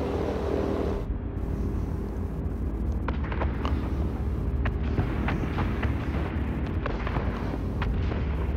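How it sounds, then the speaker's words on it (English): Defensive gunfire from a B-17G Flying Fortress bomber in the World of Warplanes flight game, heard as steady bursts of booming shots over a constant loud engine drone, with no talking. "Having defensive fire is going to allow us to be able to reduce the amount of damage the enemy can get on us."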